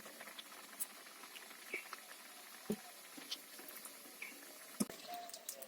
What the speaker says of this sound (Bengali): গরম তেলে আমি এগুলো দিয়ে দিলাম